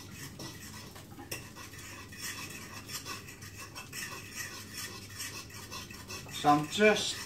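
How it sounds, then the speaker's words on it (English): Gravy being stirred in a pot, a spoon scraping and clinking against the sides in steady strokes, close and fairly quiet, with a few sharper clanks near the end and a brief spoken phrase at the start. "mixing up some of this delicious, tasty, smelling, good gravy right here"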